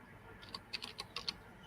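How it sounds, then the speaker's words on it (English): Quiet typing on a computer keyboard: a short, uneven burst of about eight crisp keystrokes over a soft room hush. "I heard the keyboard"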